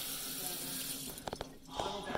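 Cold water runs from a tap and splashes onto a back, a continuous gushing stream that breaks into irregular splashes and gurgles toward the end, close up, with brief voices heard.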